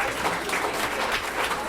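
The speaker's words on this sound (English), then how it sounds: "Let's have one final round of applause for our guest of honor tonight" Applause in the Escape Simulator video game, a dense, steady round of crowd clapping lasting a couple of seconds at even loudness.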